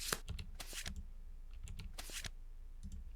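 Cards shuffling in a Kingdom Death tabletop simulator game: a few short, crisp bursts of riffling and clicking, quiet and close, separated by brief pauses.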